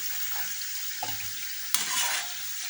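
Dough pieces fry in oil with a steady, even sizzle, and a couple of brief clinks and a soft stir rise over it near the middle.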